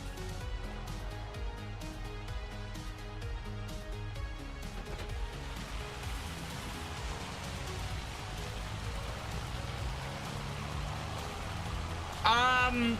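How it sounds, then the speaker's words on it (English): Hail falling in Farming Simulator 25, a continuous pattering hiss of impacts under game music and intermittent talk, with a brief louder burst near the end. "Oh no, it's hailing."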